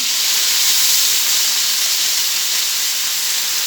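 Steady, loud sizzle with an even hiss from a ground paste of ginger, garlic, onion, black pepper and cumin frying in a pan for egg and potato curry; it holds constant without pauses and no voice is heard.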